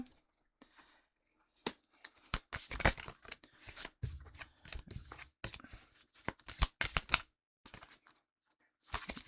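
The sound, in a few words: tarot cards being shuffled and drawn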